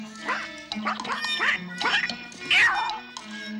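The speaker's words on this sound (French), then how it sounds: "Il est pas mal pour un canard." A newly hatched cartoon duckling quacks, giving about five nasal, squeaky quacks in a steady rhythm over a low sustained musical tone, close and clear, with no talking.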